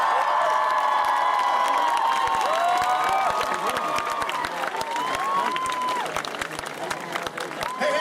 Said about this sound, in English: So a huge round of applause for Ellen and John